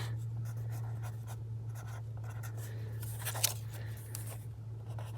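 Pen or pencil writing on paper, a run of short scratchy strokes with a brief busier burst of scribbling partway through, close and faint over a steady low hum, no talking.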